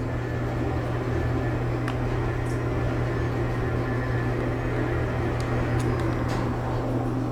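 A vintage 1989 Toshiba traction elevator motor runs at a resort, giving a steady low hum with constant broadband whirring and a few faint clicks, close and unbroken throughout.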